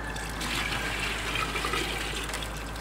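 Partly frozen maple sap is poured into a bucket outdoors, making a continuous, close splashing gush of liquid over a couple of seconds with no talking.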